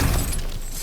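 A heavy crash of rubble as cracked ground is smashed through in God of War Ragnarök, one loud, close shattering burst that fades into crumbling debris.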